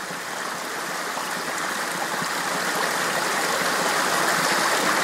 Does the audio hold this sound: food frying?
no